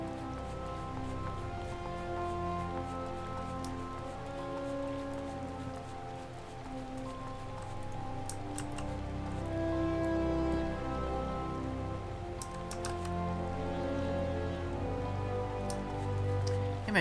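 Steady rain patters across the landscape in Final Fantasy XIV, a dense, even hiss held for the whole stretch with soft game music humming underneath.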